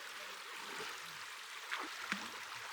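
A creek flows across a rocky hiking trail crossing, a steady, soft rush of water with a couple of brief gurgles rising above it.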